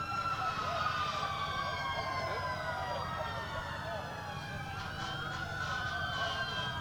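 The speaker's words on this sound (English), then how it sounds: "This one has been particularly loud because there's so many sirens coming in." Several police and fire truck sirens wail and yelp at once, overlapping and sweeping in pitch at moderate distance over a constant background hum.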